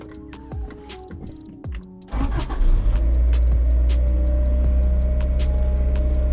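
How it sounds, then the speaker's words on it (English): A Honda Integra engine cranks with a push-to-start ignition and catches at about two seconds, settling into a loud, steady idle. Before the start there are faint clicks and a short whir. "And then ignition on."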